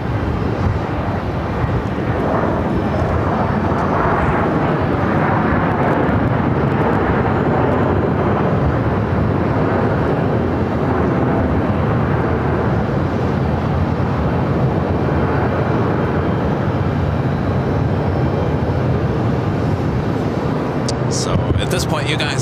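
A Southwest airliner landing on runway 26 at Phoenix airport makes a loud, continuous jet roar that holds steady for the whole stretch, with a brief rattle near the end.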